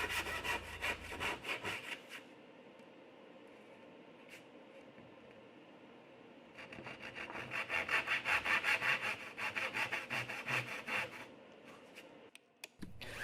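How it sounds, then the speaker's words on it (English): A handsaw makes vertical cuts on the edges of wooden tenons, with rhythmic rasping strokes in a burst, a pause, then a longer run of steady back-and-forth sawing, close up and without speech. "using the handsaw and just cutting these vertical straight cuts on the edge of my tenons"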